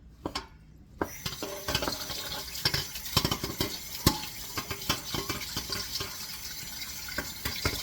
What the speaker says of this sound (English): You're going to take the spinach now and you're going to drain it.